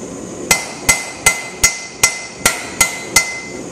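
A hammer strikes a blade eight times at a steady, even pace while the bevel is forged. Each blow rings out sharp and metallic, close up, with a short decay and no voices.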